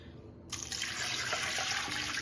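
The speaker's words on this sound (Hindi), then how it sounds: "पानी इसमें और डालेंगे" After a brief pause, water starts pouring steadily into a pot, a continuous close splashing rush that fills the rest of the moment.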